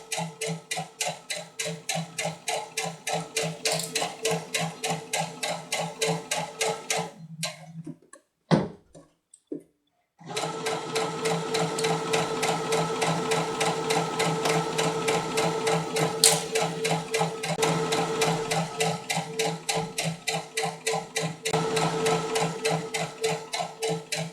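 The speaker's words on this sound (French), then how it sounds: "Et là, je vais venir coudre ici à 2 cm du bord, tout le long du bas de ma robe." A sewing machine stitching a two-centimetre hem along the bottom of a dress: a rapid, even mechanical ticking runs close and steady, stops for a brief handling pause with a few knocks, then resumes for a long continuous run.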